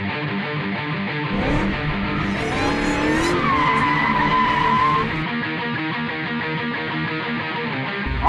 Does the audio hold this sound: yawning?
no